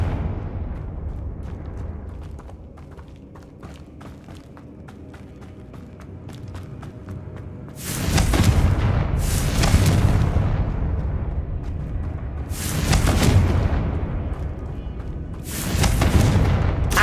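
Confringo fire spells from the Hogwarts Legacy video game burst in several heavy booming explosions, each a loud roaring blast that tails off, following a quieter stretch of small clicks and rustles.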